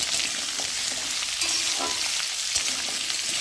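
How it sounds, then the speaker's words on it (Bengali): Potatoes frying in a pan until reddish-brown, a loud, close, unbroken sizzle with a few soft stirring knocks, no talking. "আলুটা একটু ভেজে নিয়ে লাল লাল করে"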